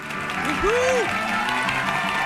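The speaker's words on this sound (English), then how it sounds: "the crowd goes wild yet again" A studio crowd applauds on a sports talk show, a short burst of clapping with a brief vocal tone over it.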